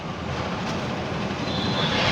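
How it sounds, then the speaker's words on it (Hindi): A Hyundai Creta engine running on CNG gives a steady, close broadband hum and rumble, unchanging throughout with no voices. "this car is running on CNG"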